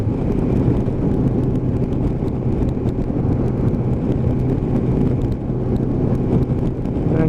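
Kawasaki GTR1400 motorcycle engine cruises steadily at about 4000 RPM, a continuous close drone mixed with wind rush.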